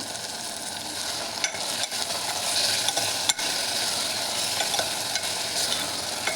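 Vegetable pieces tossed with salt and turmeric in a pan for vegetable biryani give off a steady, close sizzle broken by soft scraping and tapping from the stirring, with no talking.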